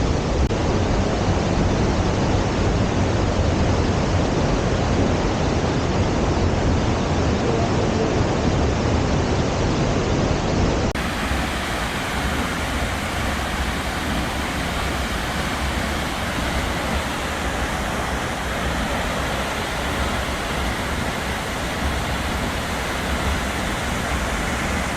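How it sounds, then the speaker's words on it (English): Minnesota's tallest waterfall at Grand Portage, a continuous broadband roar of falling water, loud and steady throughout with a slight shift in tone partway through. "This is the tallest waterfall in Minnesota."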